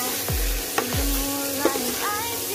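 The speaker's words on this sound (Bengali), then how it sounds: "এইভাবে মোটামুটি 4-5 মিনিট কিন্তু কষিয়ে নিতে হবে, ততক্ষণ না তেল ছাড়ছে মশলাটিতে" Masala frying in oil for potato dum with peas, a steady close sizzle with occasional scraping and stirring knocks of a spoon against the pan.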